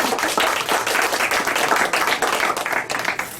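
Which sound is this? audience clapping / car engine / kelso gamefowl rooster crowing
audience clapping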